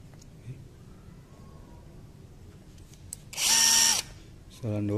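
Tekiro 20V cordless impact driver fitted with a screwdriver bit, running at speed setting 1: a brief loud whirring motor burst with a rising whine, then another start, amid quiet room noise.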